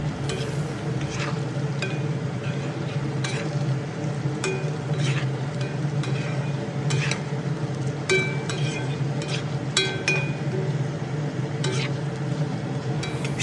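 Katla fish curry with turmeric, chili, coriander and cumin powders is stirred in a pan: a close, steady frying sizzle punctuated by frequent metallic spatula clinks against the pan.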